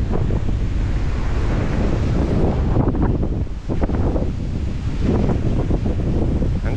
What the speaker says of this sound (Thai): ทั้งคืนลมแรงอย่างนี้ทั้งคืน